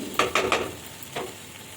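Dark soy sauce poured into a pan of sizzling chilli soya, three quick stirring scrapes and a later clatter over a soft frying hiss.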